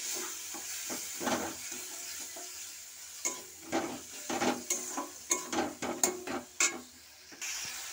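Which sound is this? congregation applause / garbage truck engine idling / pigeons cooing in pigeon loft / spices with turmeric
spices with turmeric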